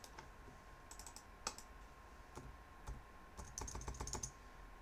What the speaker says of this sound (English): I can change this and I can just type in the word logo